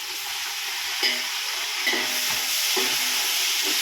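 Two large cut tomatoes drop into onions frying for chicken biryani: a constant loud sizzle with several dull scraping stirs and soft thuds spaced through the clip.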